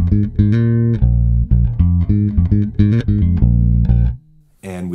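Bass guitar reference tone with a compressor pedal engaged, a loud run of evenly punchy plucked notes with held low tones, played alone before a brief quiet pause and a faint noise at the end.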